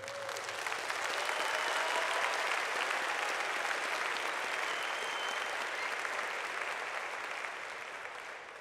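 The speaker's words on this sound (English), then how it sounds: "I think they deserve a round of applause" A graduation ceremony audience applauds donors and scholarship providers, a broad, steady wash of many hands clapping in a large hall that swells early, holds, then slowly tapers off.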